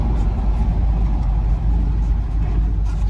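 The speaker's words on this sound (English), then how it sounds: "I'm going to test out the brakes for you" A 1969 Chevrolet Camaro engine hums steadily at close range with low rumble as the car brakes and slows, a continuous motor drone without talk.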